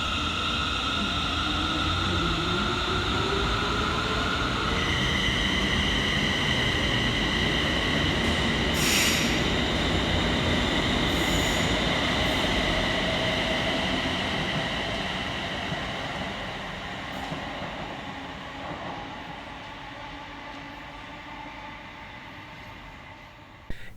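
A pair of ScotRail Class 380 electric units, 380-005 and 380-115, departs Paisley Gilmour Street station with a loud rolling rumble and high wheel squeal that gradually fades into the distance.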